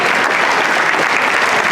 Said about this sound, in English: I just want us to give a round of applause to our wonderful panelists